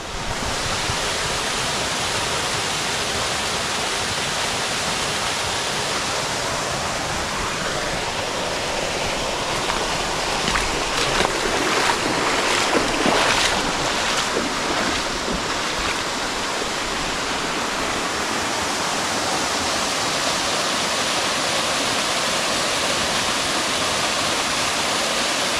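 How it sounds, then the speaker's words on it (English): Castara Waterfall in Tobago pours steadily, a loud continuous broadband rush of falling water close by, unbroken throughout with no voices. "And just like that, you're at Castara Waterfall."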